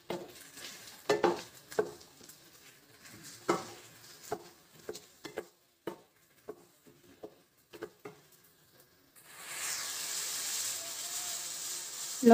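Bottle gourd (lauki) is stirred and roasted in a pan: a series of scraping, clinking spoon strokes against the metal, then a steady soft sizzle takes over near the end.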